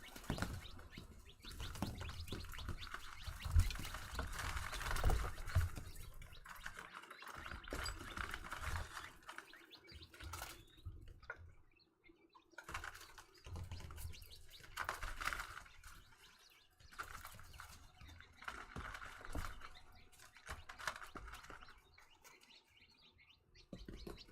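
A flock of chickens mixed with one-month-old chicks, heard as soft, scattered peeps, clucks and low gurgling calls, faint and intermittent against quiet background.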